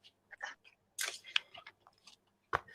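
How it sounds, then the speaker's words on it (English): Oracle cards are shuffled by hand during a psychic tarot reading, giving a few quiet, crisp riffling snaps and clicks in short bursts with no other sound. "I'm shuffling the oracle cards"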